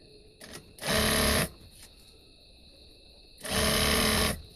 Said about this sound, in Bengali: পরে আরেকটা পাট উপর থেকে সেলাই করব